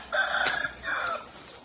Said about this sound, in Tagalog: Dami nilang manok din.